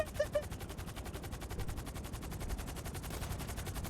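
Rapid video-game gunfire rattles in a steady automatic stream for several seconds, moderately loud and continuous, with no clear talk over it.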